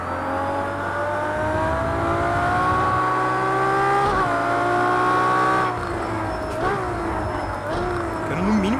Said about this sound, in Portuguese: Tira o pé do acelerador, tu sente os pipoco, velho.